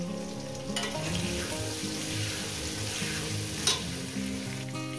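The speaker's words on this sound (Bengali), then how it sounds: "সামান্য পরিমাণে হলুদ দেবো, দিয়ে এটাকে আমি 5 মিনিট ধরে ভেজে নেব।" Turmeric-spiced food, with potatoes among it, fries in a hot pan with a steady, dense sizzle, close and continuous, broken by a few sharp scrapes of a stirring spoon.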